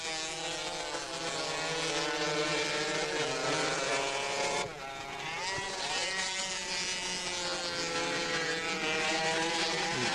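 110cc motorcycles race along a straight in a novice track race, their high-pitched engines a loud continuous whine with shifting pitch, one dip midway as bikes pass, under a faint commentary voice.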